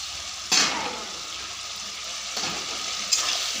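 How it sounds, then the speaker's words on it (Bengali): Fried pointed gourd stirred in a pan gives a steady soft sizzle, with two sharper scraping clatters of the spatula against the pan. "ভেজে রাখা পটলগুলো দিয়ে দেবো, দিয়ে ভালোভাবে নাড়াচাড়া করে নেব।"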